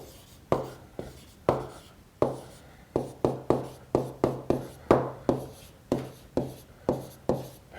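A hand draws a circle with a pen or marker on a board or paper, a run of about sixteen short scratchy strokes in an irregular rhythm, close and fairly quiet with no talking.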